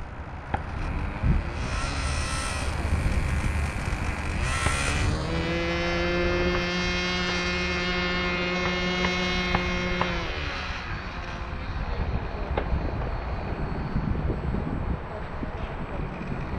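An E-flite Draco RC airplane flies overhead. Its electric motor gives a rising and falling whine, loudest in the middle as it passes, over steady wind noise.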